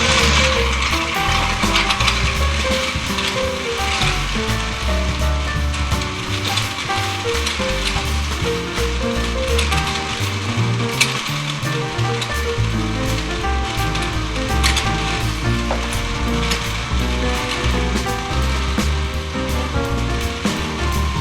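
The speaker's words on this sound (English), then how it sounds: "I'm going to add some ice in at this point and blend it into my smoothie" A blender crushing ice into a banana and blueberry smoothie, running as a loud, steady grinding whir without a break, with no talking.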